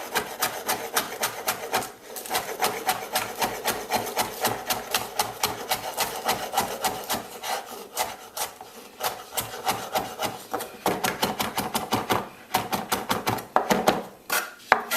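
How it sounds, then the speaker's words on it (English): A knife finely chops scallions on a cutting board, a fast, steady stream of crisp taps and rasping strokes that runs continuously with only brief pauses, close and fairly quiet, with no voices. "Next up, the scallion, and again, you want a nice fine chop."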